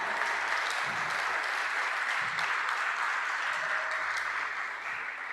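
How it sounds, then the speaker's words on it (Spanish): A church congregation claps continuously during a sermon on Christ's supremacy, a steady dense wash of many hands held at an even level throughout. "si le va a dar palmas, se las va a dar fuertes a Él"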